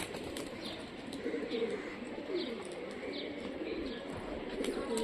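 A female tumbling pigeon from Rajshahi coos softly and gives faint wing flaps during its display, with quiet chirps around it in a calm, low-level setting.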